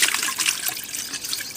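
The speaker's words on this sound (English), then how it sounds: "it's doing that bit where it starts to just spin up and eject water as it spins" An old washing machine, at an off-grid home, spins up and flings water out, giving a steady, fairly loud wash of splashing and trickling water that carries on unbroken with no voices over it.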